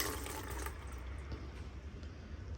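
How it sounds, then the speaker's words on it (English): Water poured from a watering can into a plant pot, a short steady trickling splash close by with no talk over it. "Pour that in the potty."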